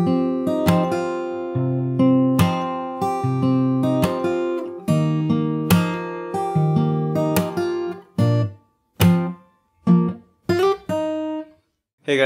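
Fingerstyle acoustic guitar plays the pre-chorus of a song, with plucked notes and ringing chords in a steady rhythm that breaks into short separated stabs near the end, played alone and up close.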